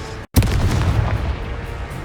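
The Confringo fire spell explodes in the wizarding video game Hogwarts Legacy: after a brief dead gap, a loud, close boom erupts and rolls into a heavy, sustained rumble that fills the rest of the moment.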